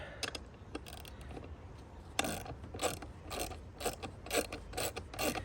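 A 1/2-inch wrench ratchets a nut onto front suspension bushings and ball joints, making quick bursts of close metallic clicking that grow denser toward the end.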